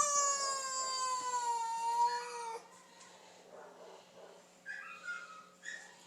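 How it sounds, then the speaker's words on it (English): An unhappy cat lets out a long, loud, drawn-out yowl that bends in pitch, followed by a few shorter, fainter mews after a brief lull. "You noticed Mr. Fezziwigs being not happy, making a sound for not happy Fezziwigs"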